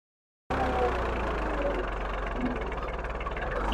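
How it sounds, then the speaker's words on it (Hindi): Tractor stuck under a heavy load of potato sacks, its engine running with a steady, close, low rumble that never stops. "तो अभी ट्रैक्टर को यहाँ से निकालेंगे थोड़ी देर के"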